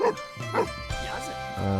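A dog in the video game The Sims 4 giving short yips and a whimpering bark, heard a few times in quick succession.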